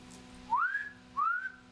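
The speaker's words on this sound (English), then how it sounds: "Who does the whistle solo?" A whistle solo from a song recording plays as two clear, rising whistled phrases in quick succession over a soft background hum.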